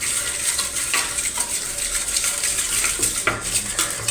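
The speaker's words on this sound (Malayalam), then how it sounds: "കുറച്ച് നേരം നമ്മളത് ആക്കിയെങ്കിലേ ഇത് പതഞ്ഞ് വരത്തുള്ളൂ." Coffee, sugar and hot water are beaten in a cup with a tea strainer until frothy, giving steady rapid clinking and scraping of metal against the vessel, close and continuous.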